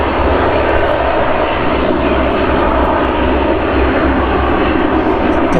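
An airliner flies past at Manchester Airport, a loud, continuous engine roar filling the whole stretch at close range.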